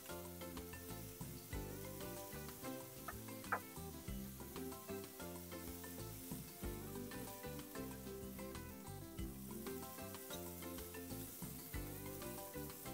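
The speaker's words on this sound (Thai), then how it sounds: "ให้เราย่างให้สุกทั้ง2ด้านนะครับก่อนที่เราจะทาน้ำซอสหม่าล่าลงไปที่ตัวไส้กรอกของเรานะครับ" Sausages wrapped in pork belly and brushed with butter sizzle as they grill in a pan, a steady close-up crackle and hiss that continues alone and unbroken.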